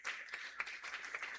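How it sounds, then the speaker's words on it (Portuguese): A church congregation claps together in praise during worship, with quick, fairly rhythmic hand claps that sound soft and somewhat distant. "Glorifique ao Senhor com palmas, palmas que exalte o Rei Jesus"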